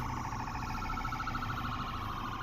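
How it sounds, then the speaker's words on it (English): An emergency siren wails continuously at close range, loud and steady, its tone wavering in a sustained rising and falling pattern over constant traffic noise, with no talking. "here comes the fire truck"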